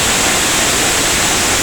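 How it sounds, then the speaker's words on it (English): Okundakun Falls, the upper falls near Bruce Crossing, Michigan, roars steadily from a spot right behind the falling water, a dense, continuous wash of loud broadband noise with no voices. "This is Okundakun Falls. This is the upper falls. And we're behind it."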